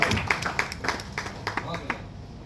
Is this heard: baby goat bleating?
no